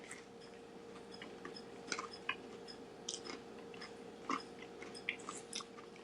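Someone chewing a bite of a homemade Nashville hot chicken sandwich, with soft, close, irregular crunches and mouth sounds that come in a loose rhythm over a faint steady background hum.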